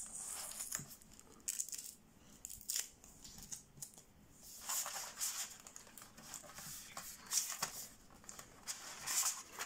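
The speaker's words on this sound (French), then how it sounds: "On va enlever les scotch." Adhesive tape being peeled off a package in a scrapbooking supply haul: repeated short ripping and crackling strips with small taps and rustles, close by, in irregular bursts with no talk.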